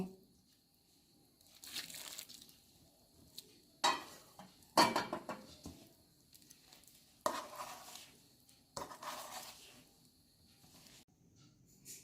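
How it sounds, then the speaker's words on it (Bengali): Flour dough for soft puffed rotis being mixed with boiling hot water using a spoon, heard as intermittent bursts of scraping, stirring and clinking against a bowl, close and quiet with pauses between strokes and no talking. "ফুটন্ত গরম জল একবারে ঢেলে দেব না, তাহলে বেশি হয়ে যাবে। এভাবে আস্তে আস্তে আমি মেখে নেব।"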